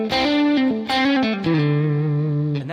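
Electric guitar on the middle pickup position, run through a reverb effect, plays a few sustained lead notes that slide and ring out with a loud, rich, lingering tail.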